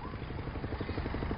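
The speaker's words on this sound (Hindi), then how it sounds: "अमिताभ का हेलीकॉप्टर।" A helicopter heard close, its rotor giving a steady rhythmic chopping thud over a continuous engine drone.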